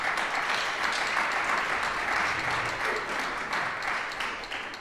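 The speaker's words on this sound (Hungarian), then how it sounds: "köszöntsük egy nagy tapssal talán a jelenlévő fiatalokat" Audience applause at a live music event at Budapest Music Center, greeting young participants; dense, steady clapping from a crowd that holds for about five seconds and starts to thin toward the end.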